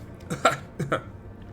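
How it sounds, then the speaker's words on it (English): A polite cough from the high factotum in the video game Rogue Trader: two or three short, soft throat bursts in quick succession, close and alone. "The honeyed voice of the high factotum interrupts the translation with a polite cough."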